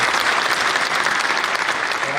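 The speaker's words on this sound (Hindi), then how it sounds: "उनके लिए जोरदार तालियों से उनका स्वागत करता हूं।" Loud, dense applause from an audience at a film screening about a tribal uprising, steady and unbroken throughout with no voices standing out.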